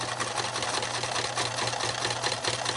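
A sewing machine runs steadily while stitching a fabric face mask, a close, continuous whirring hum with a fast mechanical chatter throughout, no voices.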